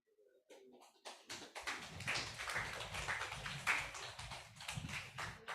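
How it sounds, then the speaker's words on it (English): A small audience claps at the close of a talk series session on biodiversity and agro-eco-edu-tourism; the dense, quiet applause starts after about a second and keeps going. "can we have a big applause?"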